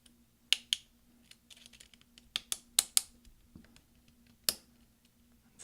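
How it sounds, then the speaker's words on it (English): Replacement delete key on a 13-inch early 2009 MacBook Pro keyboard being pressed down, its clips catching: a handful of sharp, close plastic clicks and snaps spaced irregularly over a low steady hum. "we're going to press down to get all the clips underneath this delete key to catch"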